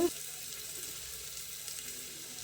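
Food fries in a pan with a steady, soft broadband sizzle that holds evenly throughout, close by, with no talk over it.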